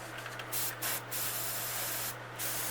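Close, continuous hiss of an airbrush spraying paint onto a bluegill fishing lure, broken by several brief pauses, with a steady low hum underneath.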